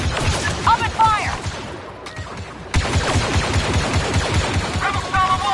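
Rapid gunfire rattles through a Star Wars Battlefront 2 campaign battle, with dense repeated blaster shots and a brief lull before the volley resumes, while voices shout over the din.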